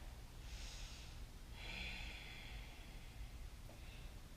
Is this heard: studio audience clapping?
no